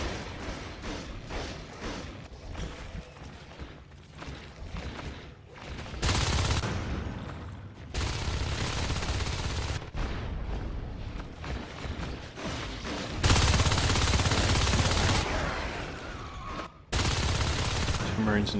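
Gunfire in a competitive video game match, with bursts of rapid shots alternating with short gaps and a caster talking over the action.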